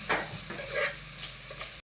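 Tomatoes being sautéed in a pan, a spatula scraping and stirring in a few soft strokes over a light sizzle, close by, cutting off abruptly at the end.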